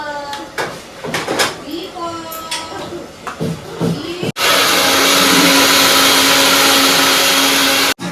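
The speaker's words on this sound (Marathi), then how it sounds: "मिक्सर मध्ये करणार आहे ज्यूस संत्र्याचा" Kitchen mixer grinder blending orange juice, a loud steady high whirring roar starting abruptly after a stretch of lively talk and ending suddenly a few seconds later.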